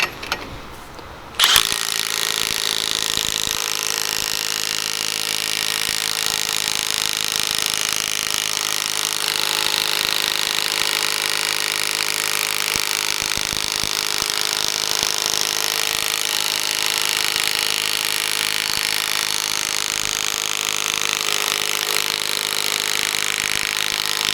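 A Milwaukee 1/2-inch mid-torque impact wrench runs at max torque, a loud, steady, continuous mechanical whir with rattling hammer texture that starts abruptly after a brief quiet moment and holds without pause, with no talking.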